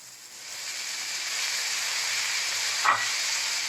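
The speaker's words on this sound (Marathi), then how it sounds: "आता मी टोमॅटो टाकते" Tomatoes added to a hot tempering in a pan while cooking a safflower-leaf (kardai) vegetable dish, a steady loud sizzling hiss that builds up and holds, with a small clink near the end.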